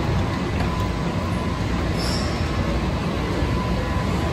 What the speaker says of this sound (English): Go up the escalator here at the metro station.